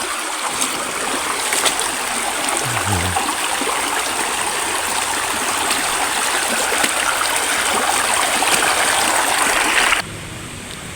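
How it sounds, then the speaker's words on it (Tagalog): Steady rushing of the Lipit River, continuous and full, with no talking, the sound dropping abruptly near the end. "Yan po ang Ilog Lipit"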